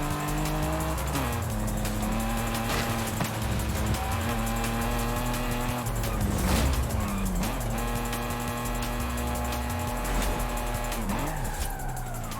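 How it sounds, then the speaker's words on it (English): An Aston Martin engine in Forza Horizon 5 holds a loud, steady drone that rises and falls through gear changes, with tire squeal and skidding mixed in throughout. "I do really like how this car sounds."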